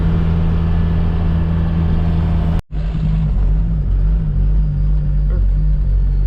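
A Toyota swapped with a TDI diesel engine cruises along logging roads, its low engine drone steady and loud inside the cab, with a brief cut midway before the rumble resumes.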